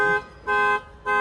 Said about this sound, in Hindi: व्हीकल का भी अलार्म एक्टिवेट हो रहा है। ये देखो इंडिकेटर चालू हो गए, हॉर्न हो गए